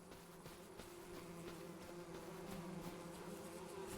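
Bees buzzing around beehives in a logging roleplay video game, a soft continuous drone of many insects at a moderate distance, steady and unbroken with no talk.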